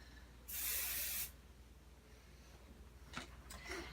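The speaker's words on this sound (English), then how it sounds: "I'm going to give this a little bit of a spray so it'll hold my shape." One steady burst of aerosol spray hisses for under a second, followed by faint light handling noises nearby.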